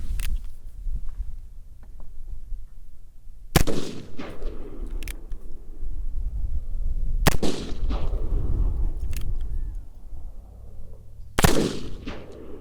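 Loud black powder gunshots fired at long range, four sharp cracks spaced a few seconds apart, each with a rolling echo tail over steady outdoor background noise; one shot comes with a hang fire.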